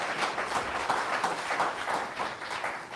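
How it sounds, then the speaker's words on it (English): An audience at an AI agents tech talk gives a steady round of applause welcoming a speaker to the stage, the clapping soft and diffuse as if heard from a distance. "we want to give him a big round of applause, and welcome to the stage"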